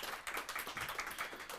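A small audience at a Scala programming meetup claps for a speaker, with quiet, scattered hand claps in an uneven rhythm, brief and fairly distant.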